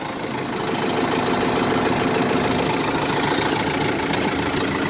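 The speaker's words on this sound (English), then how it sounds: "Start it up and take it for a smooth little drive." A Kubota M6040 tractor engine with about 618 hours runs at a steady, loud idle, a dense rumbling drone with fine rhythmic knocking that holds evenly for several seconds, close by and without talk.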